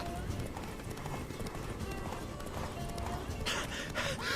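A horse gallops in The Witcher 3, its hooves pounding out a fast clip-clop rhythm under a voice talking.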